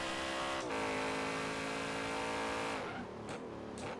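A thick-tired Lamborghini Urus lapping a track in Forza Horizon 3, its engine droning steadily at high revs for most of the stretch, then dropping off into a rougher, broken noise near the end.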